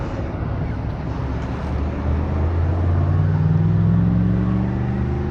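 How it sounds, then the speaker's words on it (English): A golf cart drives along a street in warm weather, its steady motor hum rising in pitch around the midpoint against a constant wash of wind and road noise. "That guy's riding a golf cart on the street."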